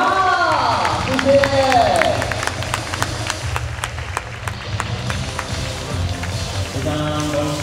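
Stadium crowd applauding and cheering for the MVP at a Fubon Guardians home baseball game, the last regular-season home game of the CPBL season, a steady dense roar of clapping with an amplified voice over it.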